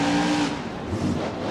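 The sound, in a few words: monster truck engine revving in BeamNG video game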